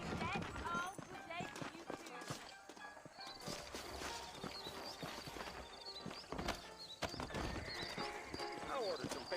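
Horses in the Red Dead Redemption video game clop and gallop, with repeated neighs and whinnies over steady hoofbeats, while voices talk throughout.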